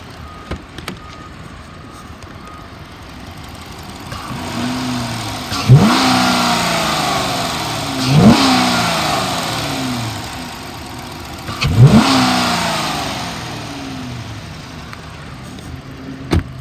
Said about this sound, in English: Let me rev it up for you so you can hear the engine.